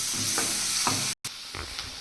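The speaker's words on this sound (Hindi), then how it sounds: "ये मैंने टमाटर ऐड कर दिए हैं और इसको भी अच्छे से मिक्स करेंगे और पकाएंगे" Chopped tomatoes stirred and cooked in a pan for a dhaba-style dal fry, with a steady sizzle and a few scraping stirs of a spoon, broken by a brief gap of silence partway through.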